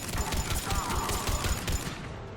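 Gunfire in Mass Effect 3, a dense burst of rapid shots and impacts over steady game noise, continuous and close, fading toward the end.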